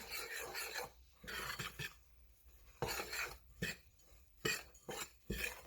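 Baking soda and salt are stirred into dry ingredients for a banana oatmeal cake, giving soft scraping, rasping bursts of a utensil against a bowl in several short rounds with brief pauses between them.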